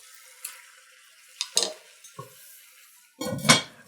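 A pot of chili being covered, several sharp metallic clanks and rattles of a lid and utensil, ending in a louder clatter as the lid settles into place.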